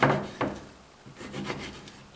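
A knife cuts guavas into wedges, heard as a few soft, close cutting and scraping strokes against a board.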